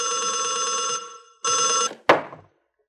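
A telephone in a drama scene rings in two loud, buzzing bursts, then a sharp clunk follows as the receiver is picked up, and silence comes after.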